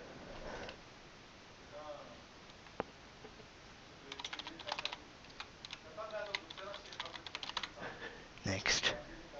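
A name is typed on a computer keyboard during Windows 7 setup in Oracle VirtualBox. Rapid clusters of close keystrokes build after a quieter start, ending in a louder flurry of clicks.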